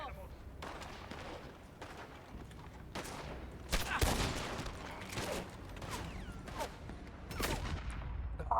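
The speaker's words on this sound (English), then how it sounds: "They're shooting in the back." Gunfire in Red Dead Redemption (RedM) crackles in bursts of sharp shots over several seconds, some louder and closer, others distant, with players talking over the firefight.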